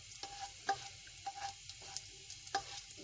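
Garlic frying in about a tablespoon of oil in a kadai, with soft sizzling and a few sharp stirring scrapes spaced through a quiet, close stretch.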